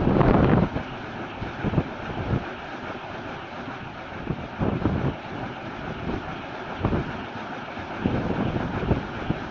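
A Proven wind turbine runs in gusty wind, heard from its base as a loud, steady roar with rhythmic whooshing surges and heavy wind buffeting on the microphone.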